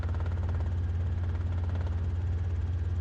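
A helicopter landing on a runway, heard as a steady, loud, low rotor drone with a fast even pulsing beat throughout, unbroken by voices.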